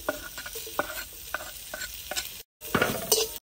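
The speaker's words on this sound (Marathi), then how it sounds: "आपण आता कांदा भाजून घेणार।" Chopped onion frying in oil in a pan, a close steady sizzle with brief stirring scrapes, a short silent gap, then louder sizzling resumes.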